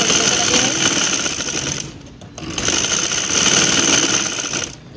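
A sewing machine stitches fabric for a boat-neck blouse, a loud, close, rapid mechanical whirring chatter in two bursts with a short pause between them.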